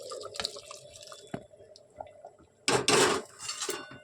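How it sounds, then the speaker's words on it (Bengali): Hot water is poured into a pot of khichuri. A few light clinks and small drips come first, then a loud, rushing gush lasts about half a second before it settles back to quiet pan noises. "গরম জলটা আমি ঢেলে দিলাম।"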